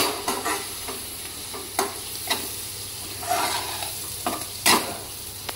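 Red chilli powder, homemade masala and turmeric sizzle in hot oil, with a spoon stirring and scraping the pan in intermittent close strokes.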